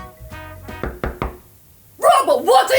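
Several sharp knocks strike a door in an uneven sequence, close and solid, followed by a voice speaking right after.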